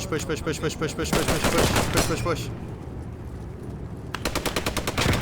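Automatic rifle fire in the video game Post Scriptum, rapid bursts of close, loud shots that pause briefly before another fast burst resumes.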